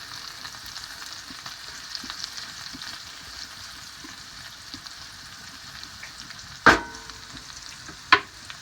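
Leeks and peppers sautéing in a pan give a steady, gentle sizzle that runs throughout at moderate level, broken near the end by two sharp metallic clanks, with no voices.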